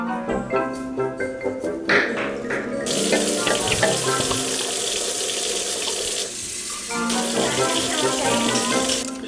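Tap water runs steadily from a kitchen faucet, filling a container for beans headed into a slow cooker; the broadband rush is loud and continuous, with a brief lull midway, alone without talk.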